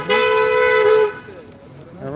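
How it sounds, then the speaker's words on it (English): A loud, sustained car horn blares for about a second in New York City traffic, then cuts off, leaving quieter traffic noise with a voice faintly in the background. "Everyone's honking because everyone is"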